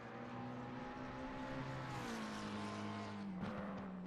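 A racing-game race car on the Nurburgring, entering the track through the Mercedes Arena section: a steady engine drone with a clear rising and falling pitch as it shifts, continuous and close, with no voices.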